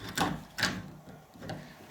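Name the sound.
door latch being pulled shut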